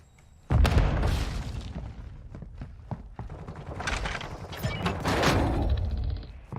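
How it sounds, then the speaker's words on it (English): A frag grenade detonates in a video game with a loud, heavy boom, and a dense rumbling blast carries on for several seconds as more bursts and crackles pile up. "Tossing frag!"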